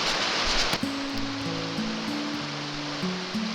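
Shallow river rapids on Birch Creek at low water rush in a steady, close wash of rushing water, with a few low tonal hums threading through the flow.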